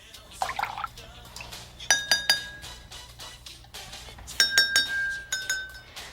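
Glasses holding water are tapped with a spoon as more water is poured in to tune them, giving clusters of clear ringing clinks between soft trickles and splashes of liquid.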